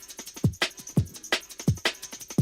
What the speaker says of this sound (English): So all together, my drums are sounding like this.